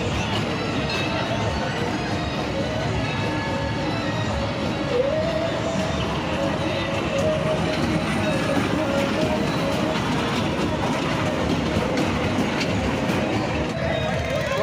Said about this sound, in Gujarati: આ છે નાના બાળકોની રેલગાડી